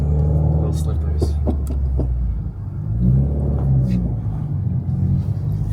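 A 2019 Subaru WRX engine and exhaust while driving through a tight turn, heard as a low, steady rumble from inside the cabin with light revving, while people talk throughout.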